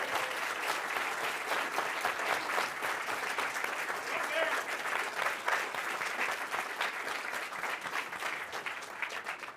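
A university Black History Month audience applauds student athletes with sustained, dense clapping from a large crowd. The ovation stays steady and fairly loud throughout, with faint crowd murmur underneath.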